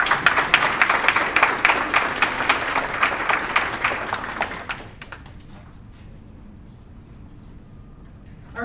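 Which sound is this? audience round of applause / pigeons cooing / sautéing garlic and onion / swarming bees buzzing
audience round of applause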